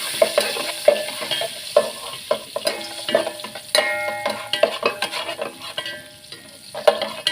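Cinnamon and star anise fry in a little oil for rice biryani, a steady close sizzle punctuated by repeated sharp stirring clicks and scrapes of a utensil against the pan.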